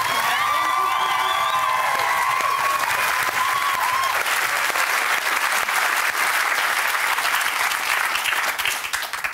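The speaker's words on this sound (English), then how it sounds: "Oh, it really hurts, all this clapping." Studio audience at a televised game show clapping hard and steadily, a dense close wall of applause with a few faint shouts, no talking over it.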